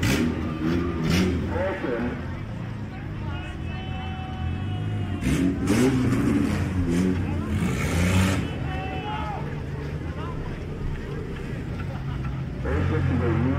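Compact cars, including a Honda Civic, race around a county fair track with engines revving and droning at a distance, layered under continuous announcer commentary over a loudspeaker.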